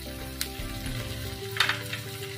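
Ginger garlic paste frying in a pan with onions for homemade Manchurian gives a steady close sizzle, with brief stirring scrapes and a low hum underneath.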